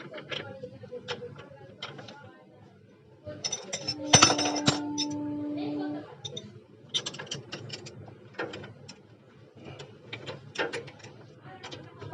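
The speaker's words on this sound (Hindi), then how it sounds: "उसके बाद हम इसे इस तरह से रख कर इस पुलर की मदद से हम इसके नट को खोलेंगे" A puller is used to loosen the clutch nut on a Passion Pro motorcycle, producing close metallic clicks, ratcheting and clinks in irregular bursts, with one sustained ringing metal tone midway.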